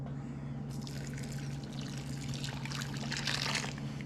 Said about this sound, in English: So now I'm about to get ready to pour this in.